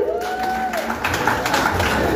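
An audience claps and cheers for Carol Maura at a lively comedy gathering, a brief, dense wash of applause and crowd noise with voices mixed in.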